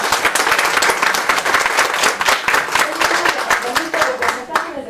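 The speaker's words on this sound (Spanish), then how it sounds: "les pido un fuerte aplauso por ser bien valiente." Audience at a round-table academic event bursts into sustained, dense applause, many hands clapping steadily and loudly throughout without pause.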